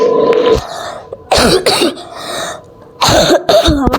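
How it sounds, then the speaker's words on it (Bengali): Several close, harsh coughs from a person playing a video game, short bursts in two clustered pairs with quiet gaps between. "আমার কাশি কমে নাই এখনো"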